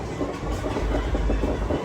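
A train on the Rayagada to Koraput line rumbles steadily with a deep low roar and faint rhythmic clatter, loud and continuous throughout.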